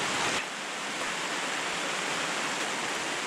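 Heavy rain drums steadily on a teardrop camping trailer, a dense continuous hiss filling the space, loud and close with no voices.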